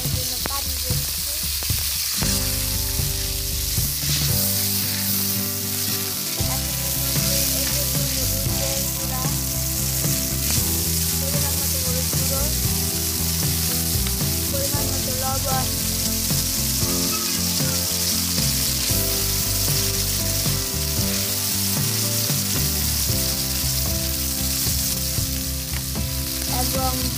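Onions frying in a wok with water added, a continuous loud hissing sizzle that stays dense and even for the whole stretch, with faint stirring underneath and no voices.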